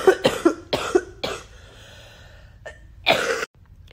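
A woman who has had a persistent cough for more than a week coughs in a run of harsh, close bursts, several in quick succession, then a pause with breathing and one more heavy cough at the end.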